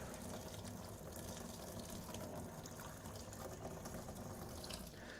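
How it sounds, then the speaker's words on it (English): Tap water runs steadily into a sink to cool film developer, a continuous soft gushing wash with no pauses. "I wonder if I could run under some cool water."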